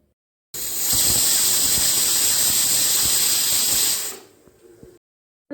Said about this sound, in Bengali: প্রেশার কুকারে ভাত আমার হয়ে গেছে এখনই সিটি পড়বে